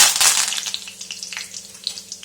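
Mustard seeds splutter and pop in hot oil for a tempering, a bright crackling sizzle with quick sharp bursts, loudest at first and then settling into scattered pops, close and without talk.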